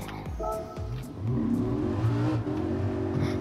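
A Lamborghini Huracan engine revs in Gran Turismo 7, its pitch climbing through a couple of short blips and then holding a loud, sustained high-rev drone, with no talking over it.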